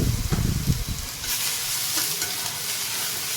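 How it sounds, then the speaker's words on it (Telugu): Tomatoes and chopped garlic pieces frying in a pan for a dry fish curry, with a close, steady sizzle and busy stirring clatter at the start, then the sizzle settling into an even hiss. "టమోటా కూడా బాగా ఫ్రై అయ్యాక కట్ చేసి పెట్టుకున్న ఎల్లిపాయ ముక్కలు యాడ్ చేశాను"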